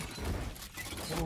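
A cube breaks in the Fortnite video game with a brief crunchy shattering burst, buried in dense, continuous game noise.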